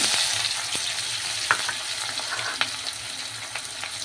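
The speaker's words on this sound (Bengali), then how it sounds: "এরপর ভালো করে নাড়তে থাকবো যতক্ষণ না লাল লাল ভাজা হয়।" Chopped onions hit hot oil with caramelized sugar for a Bengali chicken curry with potatoes, a dense close sizzle broken by sharp spoon scrapes and taps while stirring.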